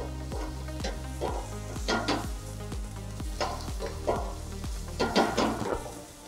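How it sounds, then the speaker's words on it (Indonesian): Food is stirred in a hot pan while the sauce base cooks, giving rhythmic scraping strokes over a continuous sizzle, close and fairly loud, with occasional utensil clinks against the pan. "Kita aduk dengan rata."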